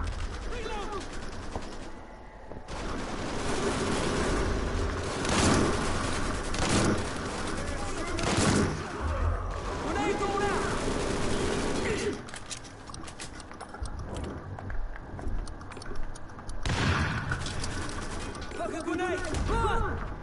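Chaotic gunfire and grenade blasts in the Mafia 3 video game, sustained rattling bursts and heavy booms across the stretch, with shouting voices at times.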